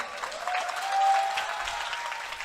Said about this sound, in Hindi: एक बार तालियों से बजाओ।